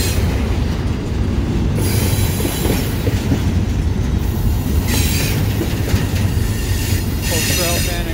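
Freight train wheels squeal sharply and repeatedly as the train leaves the Hoosac Tunnel, loud and close over a heavy rolling rumble and clacking of cars on the rails.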